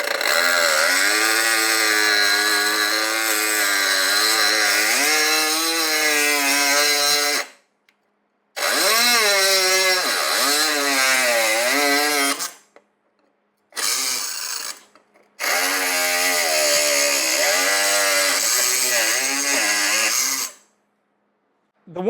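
Ryobi ONE+ HP 18V brushless compact cordless cut-off tool on a 1.5 Ah battery, cutting off a corner: a loud, close, high-pitched whining grind in several bursts separated by short silences, with the motor pitch wavering under load.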